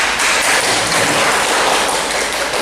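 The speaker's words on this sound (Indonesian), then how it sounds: "Ya, di tepuk tangan." Students in an Indonesian Islamic studies classroom applaud, a dense, even burst of clapping filling the room at close range.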